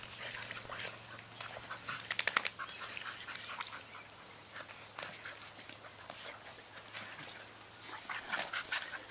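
Dogs pant and move about in water from a homemade garden-hose sprinkler on a hot day, with faint splashing, a steady hiss of water and soft panting, fairly quiet overall.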